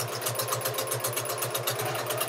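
Sewing machine stitching a fabric collage, running in a fast, even mechanical rhythm of rapid needle strokes, close and steady throughout.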